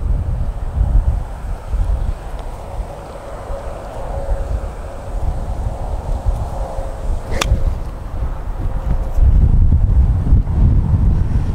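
Strong wind buffets a microphone outdoors in bad weather, a continuous loud low rumble and roar with no breaks across the whole stretch.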